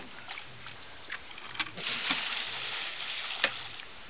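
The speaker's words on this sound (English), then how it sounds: "I'm going to turn this hose on" Water from a hose pours into and overflows a pot of freshly cooked crabs, a steady broad splashing rush with a few sharper sloshes, close and moderately loud, with no talk.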